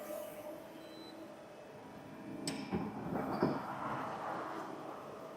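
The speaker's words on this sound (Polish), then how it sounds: "otwieramy drzwi obrabiarki." Sliding door of a MULTUS machine tool opening, a metallic scrape and rumbling slide with a couple of clunks, moderately loud over a steady workshop hum with no talk.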